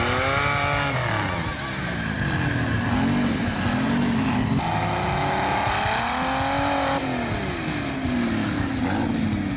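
Off-road jeeps rev and accelerate on a muddy trail at a jeep club trail event in Irani, Brazil, engines rising and falling in pitch and loud and close, with several revving surges and no voices.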